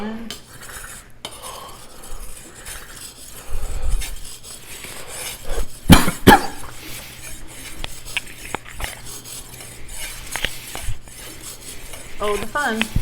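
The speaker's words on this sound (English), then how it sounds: "let's dull the knife" Kitchen knife being deliberately dulled before a whetstone sharpening test, with irregular metallic scraping, clinks and rasps over several seconds, close and moderately loud, with no talk.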